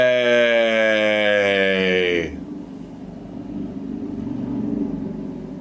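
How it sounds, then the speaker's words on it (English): Road traffic with cars and motorcycles going by just outside a room, a steady mid-level rumble that swells and recedes after a loud tonal engine-like drone cuts off at the start. "my room is right next to a road, so if you're just hearing noises, that's what that is. It's cars and motorcycles"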